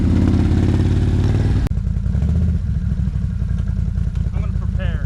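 A Can-Am Renegade 1000 ATV engine runs at the base of a hill with a steady low rumble and a rattling clatter, then carries on near and loud after a brief sharp break, as voices talk over it.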